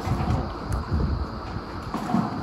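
Wind gusts across a microphone at a mountain camp on Gunung Raung, a continuous low rumbling buffet that swells and eases in loud, uneven waves with no voices.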